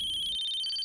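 A phone rings with steady electronic tones throughout, fairly loud and alone without any talk, the ring cutting off abruptly at the end.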